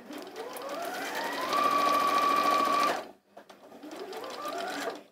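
A sewing machine stitches a skirt with a loud, steady whirring run of about three seconds. After a brief pause it starts again, close and clear, with no talk over it.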